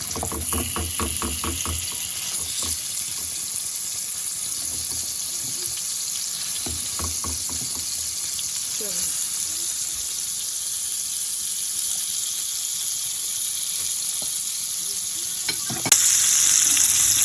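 Mutton chops frying in spiced oil over a low flame, a long steady sizzle with bursts of clattering utensil taps early on and a louder hiss surge near the end, no speech.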